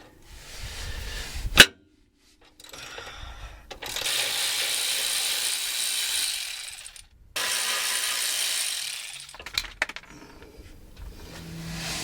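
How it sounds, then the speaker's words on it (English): A ratchet breaks tight bolts loose on a rig: a sharp crack, then long stretches of rapid, loud pawl clicking up close, ending in a few separate clicks. "Breaking them loose with the ratchet."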